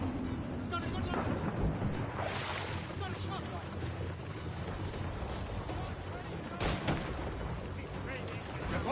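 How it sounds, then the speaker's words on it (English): Ship mortar fire in the Assassin's Creed Rogue naval game, heavy booming blasts around the third and seventh seconds over dense battle noise, water and ship sounds, with voices talking throughout. "Is that a ship mortar?"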